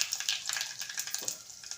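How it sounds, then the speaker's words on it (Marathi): Mustard seeds, cumin and asafoetida sizzle in hot oil, a close, crackly fizz with quick pops, heard briefly and without talk. "आता यामध्ये आपल्याला पाव चमचे मोहरी घालायची आहे पाव चमचे जिरे पाव चमच्यापेक्षा कमी हिंग घालायचं आहे"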